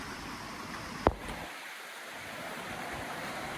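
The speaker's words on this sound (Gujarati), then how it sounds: "અહીંયા આગળ પાણીનો અવાજ આવે છે." Water rushes at a waterfall near the Mahakali temple at Saravana as a steady, faint broadband roar, broken once by a short sharp click early on.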